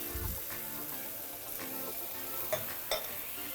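Roasted red peppers and garlic for a sun-dried tomato dip sizzle and fry in a hot skillet, with steady crackling and a few stirring scrapes close up.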